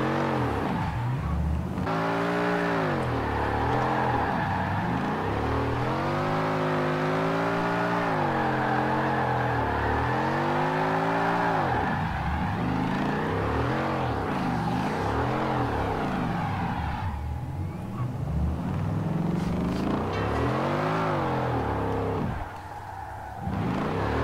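A 1968 Mustang GT known as Eleanor in Forza Horizon 4 revs hard while spinning donuts, its engine note rising and falling in repeated sweeps with tire squeal, loud and continuous with no talk.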